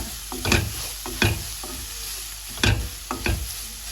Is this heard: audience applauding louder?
no